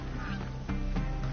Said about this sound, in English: That's a goose.